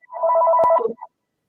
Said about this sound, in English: Telephone. Oh, somebody's got a phone.